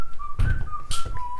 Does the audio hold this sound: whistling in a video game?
yes